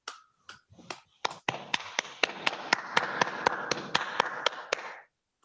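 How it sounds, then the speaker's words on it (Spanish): About fifteen sharp, evenly spaced claps sound close and alone, steady and rhythmic, as applause for hospital medical staff. "Le pido a nuestro consejo un aplauso virtual desde aquí para todo nuestro personal médico"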